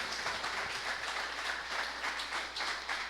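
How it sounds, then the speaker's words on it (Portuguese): A church congregation applauds during a service, a steady wash of many hands clapping, moderately distant and even in level throughout. "Igreja, vamos aplaudir a Jesus por essas vidas."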